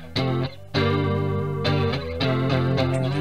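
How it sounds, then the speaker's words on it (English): Sustained synth tones run through a chorus patch on a Spin FV-1 effects chip, built in SpinCAD Designer; several held notes with a shimmering, doubled character start and stop abruptly, loud and alone. "traditional chorusing type sound."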